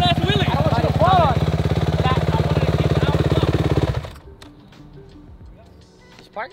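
A dirt bike engine held at high revs during a wheelie, a loud rough buzzing drone with people talking over it, then cutting off abruptly to quiet background with faint voices.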